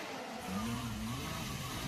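A Ferrari Formula 1 car races during the Spanish Grand Prix, a faint, distant engine whine rising in pitch as it passes, heard under crowd and track noise.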